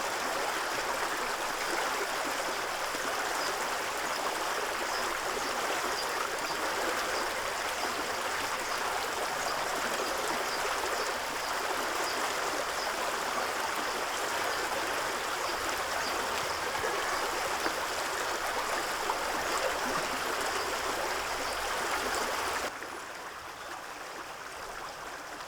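A river flows in a steady, broadband rush of moving water, constant and fairly close, dropping suddenly to a quieter flow near the end.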